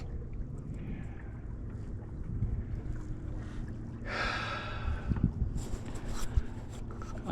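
A small boat moves across a lake, giving a low steady rumble with wind buffeting the microphone and a brief rushing splash midway, no speech.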